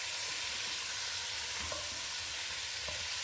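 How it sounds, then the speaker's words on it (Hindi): Chicken pieces fry in a pan of hot oil, giving a constant crackling sizzle with occasional faint scrapes of stirring, steady and close throughout. "अब हमें चिकन को इतना फ्राई करना है कि इससे अच्छा सा गोल्डन कलर आ जाए।"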